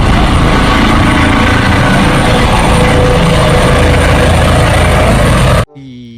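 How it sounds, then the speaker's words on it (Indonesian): Steady, loud whirring drone of a toy helicopter in a toy-cleaning play session, running continuously at close range for several seconds before cutting off abruptly near the end. "Keluarlah helikopter."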